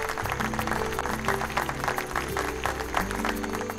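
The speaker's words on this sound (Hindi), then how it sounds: "तो जोरदार तालियों से स्वागत कीजिए उत्तरा देवी रावत," Applause welcomes guests at a small function in a Hindi TV drama, steady clapping layered under a prominent music track with a sustained low tone.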